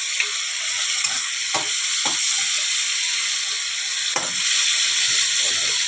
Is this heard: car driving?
no